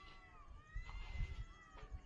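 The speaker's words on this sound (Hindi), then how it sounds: "ऐसी जगह पर बिल्लियों की आवाज आना बहुत ही भयानक सिद्ध होता है" Cats meowing inside a haunted palace, with drawn-out, wavering cries that rise and fall and sound somewhat distant over a low rumbling background.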